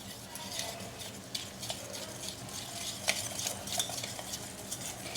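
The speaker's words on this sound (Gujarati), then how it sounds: "હું અત્યારે આ રીતે વિસ્કરથી વિસ કરી લઈશ" Khandvi batter with turmeric and hing being whisked in a bowl, giving continuous close scraping and swishing with light metallic clinks over a faint background hiss, no talking.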